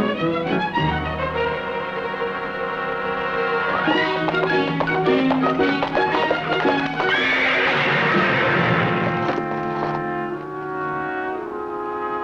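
Horse neighing and whinnying over a steady bed of orchestral music, loud and close.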